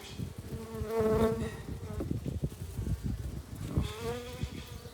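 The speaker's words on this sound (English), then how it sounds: "lively hive of bees" Honey bees buzz in a dense, wavering drone close by at a hive being split, swelling loudest early on, with rustling and knocks underneath.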